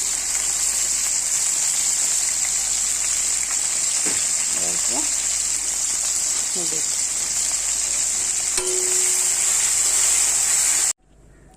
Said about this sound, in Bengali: ভেন্ডিটা ভাজা করে নিব।